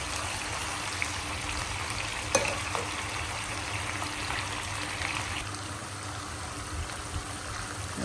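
Chicken pieces sprinkled with salt and a splash of vinegar frying in a covered pot, giving a steady, even sizzle and crackle that runs throughout with a few brief clinks.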